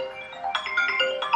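A phone ringtone chimes in an indoor home, a short repeating electronic melody, close and clear with no talking over it.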